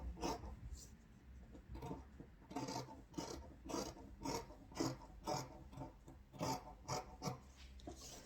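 Fabric being cut for a gown panel with shears gives a close, quiet run of rhythmic snipping and rasping strokes, roughly one or two each second, with no talking.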